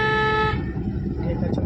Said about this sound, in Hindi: हॉर्न देंगे